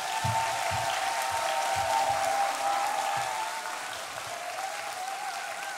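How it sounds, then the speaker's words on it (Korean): Loud applause from a church congregation during a Sunday service, sustained clapping that gradually thins out toward the end. "나오실 때 힘찬 환호와 박수 부탁드립니다."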